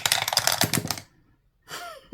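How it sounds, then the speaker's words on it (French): Dice clatter rapidly across a surface, a burst of quick clicks and rattles, then silence before a few more light clacks. "de lancer les dés en fait comme ça"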